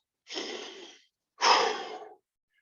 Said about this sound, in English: Nice deep breath. Focusing breath.